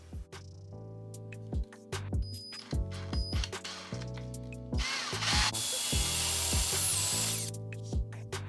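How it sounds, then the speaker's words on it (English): A power drill bores a hole with a drill bit while a bench vice is being installed, heard as short repeated whirring bursts followed by a longer sustained grinding run, close and fairly quiet. "you want to use a drill bit with the diameter equal to or slightly bigger than the diameter of the shaft of the bolt"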